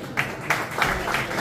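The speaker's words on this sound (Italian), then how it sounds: "Facciamo un altro applauso, dai." A few faint, scattered hand claps from an audience at an autism awareness festival sound in a soft, thin burst under low background murmur.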